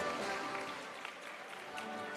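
An audience applauds teachers at an engagement session, steady, moderately distant clapping from many hands filling the whole stretch, with faint voices mixed underneath.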